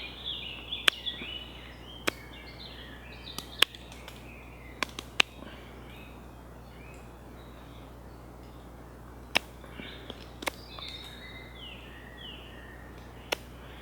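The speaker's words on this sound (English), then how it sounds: "It's lovely sitting here and listening to all the birds singing away." Birds sing in woodland, distant chirps and short warbled phrases scattered through a quiet outdoor background, broken by a few sharp close clicks and snaps.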